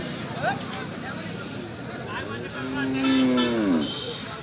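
A cow lets out a long, low moo at a cattle market, amid background chatter and crowd noise, with people talking nearby.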